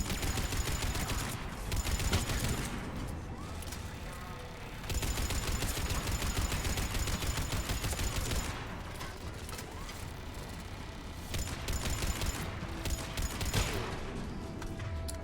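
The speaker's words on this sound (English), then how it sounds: "Now that's a gun." Weapon fire in the video game Mass Effect 3: loud, dense bursts of rapid shots with mechanical clacking, broken by two brief pauses, and no talking.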